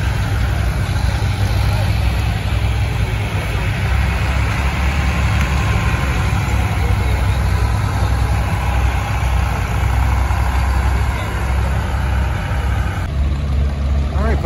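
A tractor pull at an antique engine show: a heavy engine roars steadily and loudly throughout, a continuous low drone with crowd and voices blended underneath.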